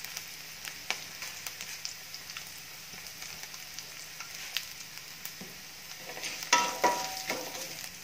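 Garlic sautés in hot oil with curry leaves and asafoetida, making a steady close sizzle with light crackles and a few stirring scrapes, swelling louder near the end.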